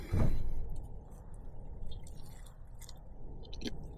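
Someone chews a homemade tortilla breakfast burrito made in a van. A soft bite at the start is followed by quiet, moist chewing close to the mic, with faint clicks.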